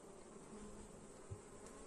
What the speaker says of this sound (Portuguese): Olha só, gente, quanta abelha.